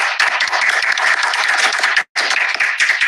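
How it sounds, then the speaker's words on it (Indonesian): An audience applauds a history professor at a talk event, dense loud clapping from many hands that fills the space, with a brief break near the end before the clapping resumes. "Tepuk tangan buat Profesor Anhar Gonggong."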